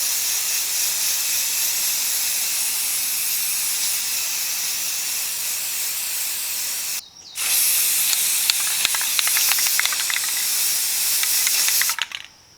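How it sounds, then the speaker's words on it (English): Aerosol spray paint hissing from a can onto a recycled tire seat: a long steady close spray, a brief pause, then a second burst with sputtering bursts before it cuts off. "it's time for the spray paint."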